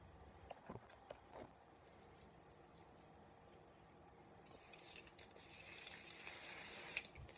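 Hairspray from a spray can hisses during flat iron curl styling, building into a sustained spray near the end after quieter handling noises and small clicks, with no talking.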